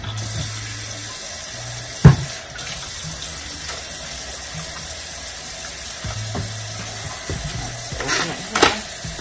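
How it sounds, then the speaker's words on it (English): Running water from a kitchen tap splashing over hands at a sink, a steady close rush with a couple of sharp knocks and clatters. "Wash my hands first."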